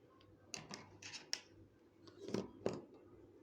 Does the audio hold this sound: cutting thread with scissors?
yes